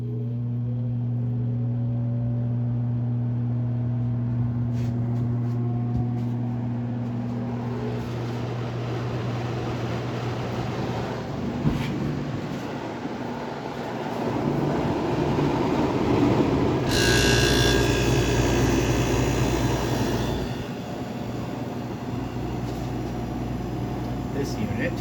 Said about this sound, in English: So the Daikin fan motor.